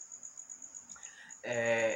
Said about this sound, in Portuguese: Vocês estão percebendo um grilo aqui, né?